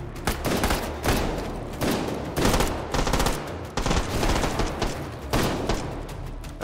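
Repeated bursts of gunfire inside the H3VR virtual reality shooter, loud rapid volleys arriving in rhythmic clumps roughly every second, dense and close with no voices over them.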